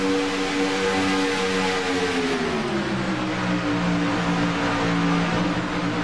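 Race cars lap Daytona in a continuous engine roar, several motors droning together with pitches sliding and shifting as they pass, loud and steady throughout with no voices.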